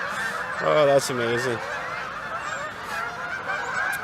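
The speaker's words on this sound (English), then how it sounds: "here comes another giant flock of geese to join in with the others" A large flock of geese coming in to land honks in a burst of overlapping calls, loud and fairly near over a windy outdoor background, as a voice briefly exclaims.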